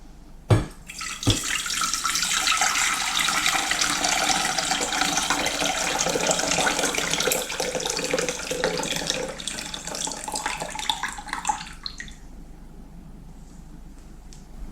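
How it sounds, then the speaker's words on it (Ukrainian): Water pours in a steady, splashing stream from a jar into a pot for about eleven seconds, preceded by two sharp knocks, then stops and leaves faint quiet, while canning tomatoes with apples. "Минуло 20 хвилин, тепер воду зливаємо назад в кастрюльку."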